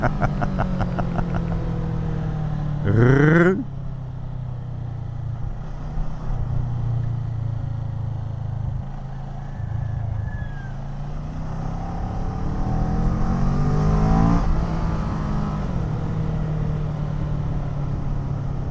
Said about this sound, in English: since I have the stock pipe, I hear more the air intake when I accelerate